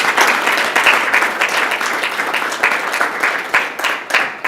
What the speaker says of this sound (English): give yourselves a big round of applause for being present